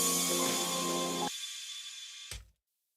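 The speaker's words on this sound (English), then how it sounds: "I always use an 808 shimmer" An 808 shimmer crash sample used in music production rings out as a bright, sustained wash, cut off cleanly partway through, followed by a short, fading burst of another hit near the end; no voices.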